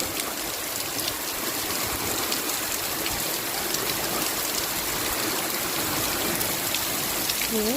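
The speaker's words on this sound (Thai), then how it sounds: "ฝนตกเยอะมากเลย" Heavy rain pours steadily at a Thai beach, a dense continuous hiss of falling water with no breaks and no voices.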